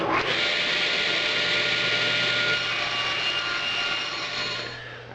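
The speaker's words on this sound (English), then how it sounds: "I'm going to cut these in half to make these a little more manageable" A power saw rips through 3/4-inch plywood in one continuous, loud, high whine that holds steady for several seconds and then tapers off near the end.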